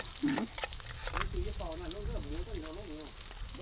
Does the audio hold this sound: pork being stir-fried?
yes